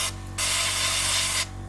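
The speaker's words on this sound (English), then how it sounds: "So what we're going to do is just spray the inside of the windscreens," Airbrush spraying paint inside the windscreens of an Italeri 1/48 Seahawk model kit: a steady loud hiss of about a second, with a fainter hiss just before, over a constant low hum from the compressor.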